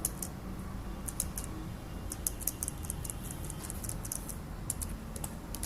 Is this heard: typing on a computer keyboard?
yes